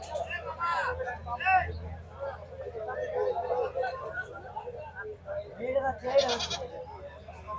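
Goats bleating at a busy goat market, several short nasal calls scattered through a steady crowd murmur, with one louder bleat near the end and people talking throughout.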